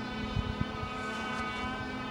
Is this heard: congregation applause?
no